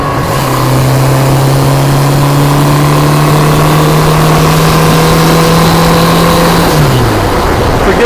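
Car engine revving under throttle while driving, a loud steady mid-pitched drone with rising harmonics that holds for about seven seconds, then the pitch drops as the throttle eases off near the end.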